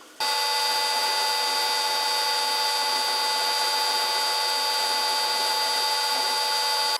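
A metal lathe cuts with a high-speed steel tool bit that isn't cutting right, giving a steady, loud, shrill whine with ringing overtones that holds unbroken for about seven seconds.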